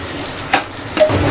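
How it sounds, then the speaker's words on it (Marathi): Spices frying in oil for a shevla (dragon stalk yam) bhaji, a soft sizzle broken by two quick stirring scrapes of a spoon in the pan, close, with no talking. "चला मसाले चांगले मस्तपैकी तेलावर फ्राय करून झालेत."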